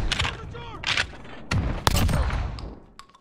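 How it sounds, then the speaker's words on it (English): Shotgun fire in Modern Warfare: several loud, sharp blasts in quick succession over a short busy stretch, mixed with other game effects and some talk. "I didn't realize that was a shotgun"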